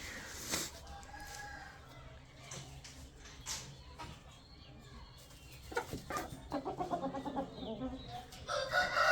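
Chickens cluck nearby and a rooster crows in a farmyard. Scattered clucks and calls rise into a busier burst of squawking toward the end.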